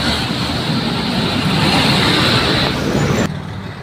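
Dense road traffic passes continuously at close range in a mountain-area town in the Philippines, with a steady loud broadband roar of many vehicles that drops off abruptly near the end.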